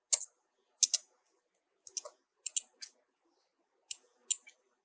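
Sharp, isolated computer mouse clicks, some in quick doubles, sound close and crisp against near silence, spaced irregularly with gaps between.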